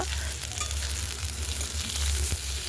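Sliced pointed gourd (potol) tossed with turmeric fries in a pan, giving a loud, continuous close sizzle that holds steady with slight swells and no voices.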